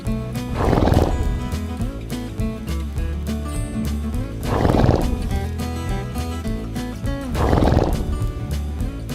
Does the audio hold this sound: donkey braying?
yes